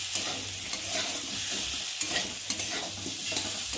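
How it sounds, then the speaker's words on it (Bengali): Spices and tomato are sautéed in a pan with a soft, constant sizzle, broken by the scrape and clack of a spoon stirring at irregular intervals, close and fairly quiet. "টমেটো দিয়ে একটু ভালো করে কষিয়ে নেব"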